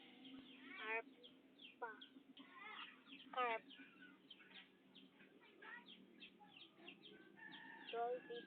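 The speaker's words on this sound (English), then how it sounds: "Chicken." Farm chickens cluck and squawk in a dense, continuous chatter of short calls at moderate distance, with a few sharper cries rising above it, on a low-quality recording.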